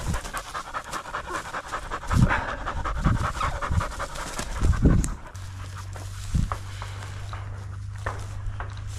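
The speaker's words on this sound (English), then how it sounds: "Oh, good dog. Good dog, Sophie." A hunting dog pants rapidly and steadily up close after retrieving a chukar during a bird hunt, with a few rustles and footsteps around it and a low engine-like hum in the background.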